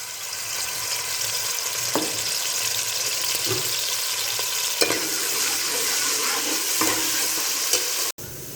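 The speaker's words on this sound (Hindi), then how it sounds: "ऑयल हमारा गर्म हो चुका है, इसके अंदर मैं डाल दूंगी प्याज। प्याज को हम हल्का हल्का सा कर लेते हैं ब्राउन।" Chopped onion frying in hot oil in a pot keeps up a steady, close sizzle, broken now and then by the scrape of a stirring spoon, with no talk over it.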